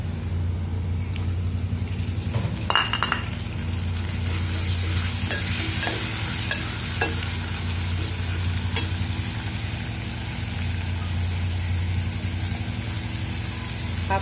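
Tomatoes are tipped into fried onions in a pan for gawar sabzi, setting off a steady sizzle with scraping stirs and a few clinks of the spoon against the pan, heard close with no talking.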